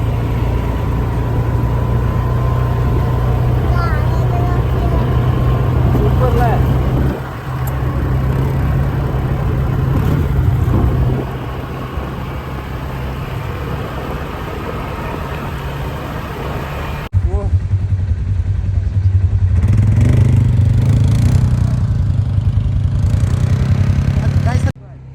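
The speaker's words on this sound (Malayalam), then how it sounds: "ഞങ്ങൾ പോകാൻ പോകുന്നത് ATV ബൈക്കിൽ തന്നെ മുകളിലേക്കാണ്" An ATV engine rumbles steadily as it climbs uphill through a snowy, freezing area of Kashmir, a low continuous drone that shifts in level while people talk over it.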